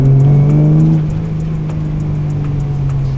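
A Ford AU Falcon fitted with a J3 performance chip accelerates, its engine drone loud and steady with a strong low hum that eases slightly after the first second, heard from inside the car with no talk.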